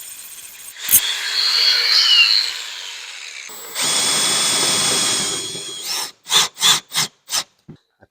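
Power tool cutting off an EGR part on a Mazda B2000 pickup: a close, loud whining cut, then a harsher grinding pass, ending in a rhythmic series of short bursts as the trigger is pulsed.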